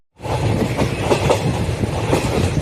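A passenger train runs along the Trichy–Tambaram mainline in Tamil Nadu. The loud, steady rumble of wheels on rails carries a rhythmic clickety-clack, close and continuous after an abrupt start, with no voices.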